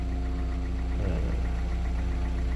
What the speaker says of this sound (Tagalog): Parang nagbabibrate yung makina.